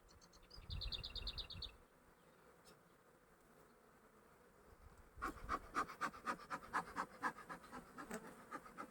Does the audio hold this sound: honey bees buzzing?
yes